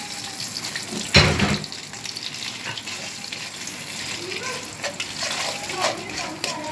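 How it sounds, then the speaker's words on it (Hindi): A little water is poured into hot oil with roasted coriander, red chilli and mango powder during paratha cooking, setting off a sudden loud burst of sizzling that settles into a steady crackle and frying hiss. "और हल्का सा पानी डालकर"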